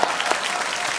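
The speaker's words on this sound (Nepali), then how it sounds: "श्री योगेश्वर अमात्यजी ताली बजा" Studio audience applause welcoming guest Yogeshwor Amatya on a comedy talk show, a dense steady clatter of many hands throughout the short burst, with no talk over it.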